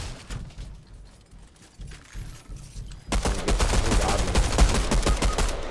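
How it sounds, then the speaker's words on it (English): SMG fire in a video game. A muffled, quieter stretch gives way halfway through to a loud, sustained burst of rapid gunfire that runs to the end, with no speech. "I shot that kid with an entire SMG mag."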